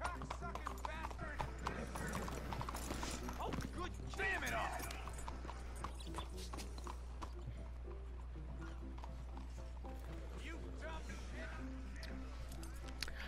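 A horse's hooves clip-clop in Red Dead Redemption 2, a quiet, irregular stream of hoofbeats with faint mechanical clinks in the game soundscape.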